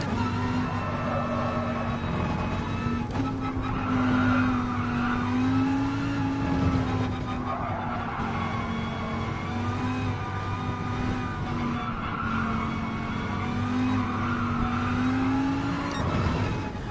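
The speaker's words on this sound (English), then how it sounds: "Does anybody think the tire screeching on this game is exaggerated?" Racing car in the Gran Turismo Sport video game, with a loud sustained engine drone and wavering high tire screeches that rise and fall through repeated cornering, heard up close with no talk.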